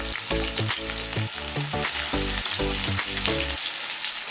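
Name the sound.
onions frying in a pan for fish curry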